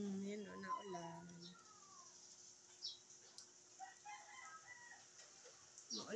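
A rooster crows near the start, followed by scattered clucks and faint calls from chickens on a rainy morning, fairly quiet, with a person talking at times.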